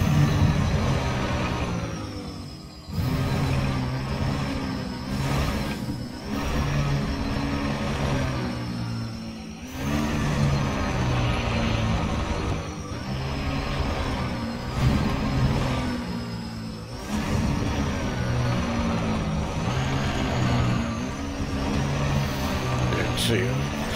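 A thin, steady robotic whine from a raw material source in Elite: Dangerous holds as a high tone over a low droning ship hum, with a voice talking throughout.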